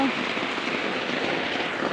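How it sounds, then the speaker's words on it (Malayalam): Sudden rain pours down in a steady, dense hiss, a continuous wash of falling drops with no pauses, close and even in level. "എത്ര പെട്ടെന്നാണ് മഴ പെയ്തിട്ടാ"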